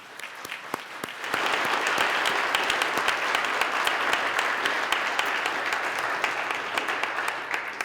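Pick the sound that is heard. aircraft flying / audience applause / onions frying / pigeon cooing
audience applause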